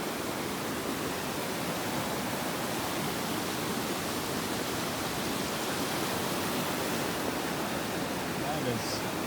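Water from a mountain stream at a backcountry campground rushes in a dense, even roar that holds steady throughout, with no voices.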